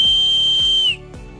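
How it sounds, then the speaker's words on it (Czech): A homemade whistle cut from a willow twig gives one long, steady, shrill high-pitched tone that cuts off abruptly, leaving quiet ringing afterward. "No a když to máte, můžete vyrobit takovouto píšťalku."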